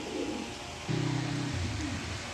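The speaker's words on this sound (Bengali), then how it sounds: "দেখেন এখানে এক পেয়ার ব্ল্যাক রেসার কবুতর দিলাম" A pair of black racer pigeons cooing up close, a low throaty coo swelling midway and rolling on, with no voices.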